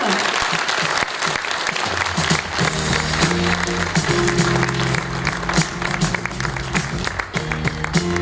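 Audience at the Tecoma Award 2018 ceremony applauds steadily and loudly as a nominee comes up on stage, with dense clapping throughout and a voice speaking over it.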